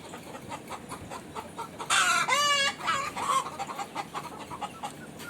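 Country hens in a poultry shed clucking and squawking, with one loud, drawn-out cackling call rising above the steady background clucks of the flock.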